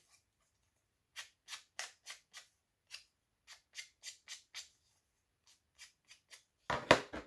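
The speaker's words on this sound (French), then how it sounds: "On frotte le papier, plutôt le pad contre le papier." Rubbing strokes of an ink pad dragged across paper while distressing a vintage tag made on corrugated cardboard, a series of short dry swishes in uneven rhythm, close and soft, with one louder scrub near the end.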